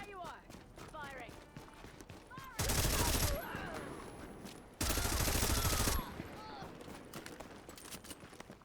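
Gunfire in the video game The Division, heard as two loud, dense bursts of about a second each, separated by a short gap, over steady game ambience with some speech.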